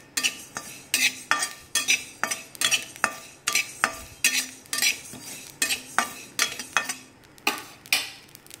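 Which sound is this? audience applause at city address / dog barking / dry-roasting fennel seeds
dry-roasting fennel seeds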